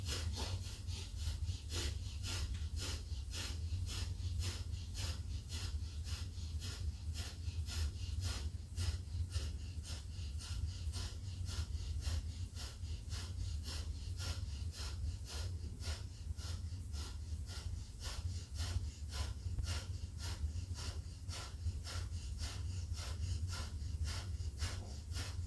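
Rapid, forceful pranayama breathing during a vinyasa yoga exercise, a steady train of sharp, even exhalations repeating for the whole stretch, close and fairly loud, with no talking.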